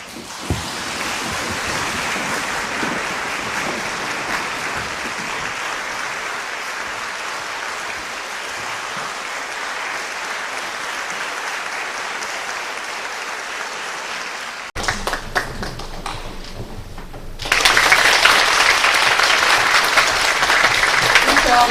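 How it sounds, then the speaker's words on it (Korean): A concert audience at a Korea-China orchestra's regular concert applauds to welcome the conductor, a long, dense, even roar of clapping that steps up in loudness near the end. "여러분들의 힘찬 박수로 우리 고용순 지휘자님을 모시도록 하겠습니다."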